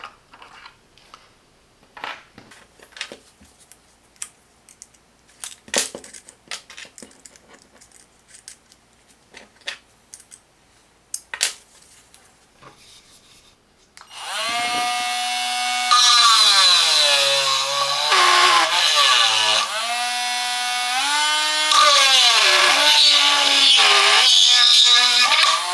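A Parkside 12V cordless rotary tool with a grinding bit runs steadily and close for about ten seconds, its high motor whine rising and dipping under load, after scattered light clicks and handling noises.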